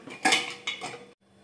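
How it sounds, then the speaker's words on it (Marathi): Metal clatters as a pressure cooker lid is taken off after cooking tender gram-leaf greens: two or three close, bright clanks of lid against pot, then a brief quiet and a faint hiss. "झाकण काढून बघूया"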